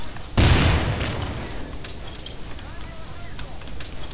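Explosion in the video game Desert Combat, a single loud boom that hits suddenly and rumbles off into a long, noisy decay with scattered faint crackles and pops afterward.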